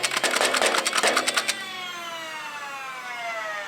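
A Nerf Ultra 2 flywheel blaster fitted with an Elite conversion kit fires darts in a rapid burst of about a dozen sharp, close shots, followed by the whining flywheels spinning down.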